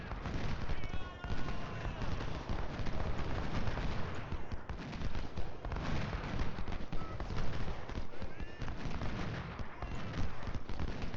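Dense, continuous crackle of massed musket volleys and booming cannon fire in an Ultimate General: Civil War battle, a rolling unbroken din of overlapping shots at steady loudness throughout.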